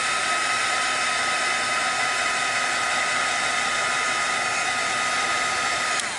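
A hair dryer blows steadily at close range, drying sparkling pigment paint in a continuous loud whooshing roar that holds unbroken until a brief shift at the very end.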